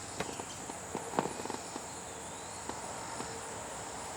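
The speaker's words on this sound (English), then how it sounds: "You got bugs, you got birds, you got cicadas, you got crickets." Crickets and other insects chirp steadily outdoors at night in Elizabethtown, Kentucky, a continuous high-pitched trill with scattered faint clicks and light footsteps nearby.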